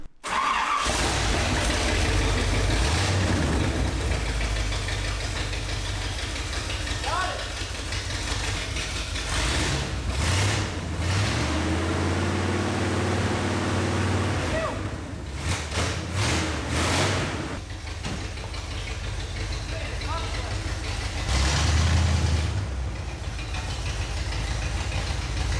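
A Toyota Land Cruiser engine with no exhaust fitted roars and idles continuously, loud, rough and rumbling up close, with occasional revs rising and falling.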